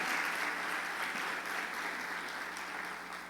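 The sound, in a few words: church congregation applause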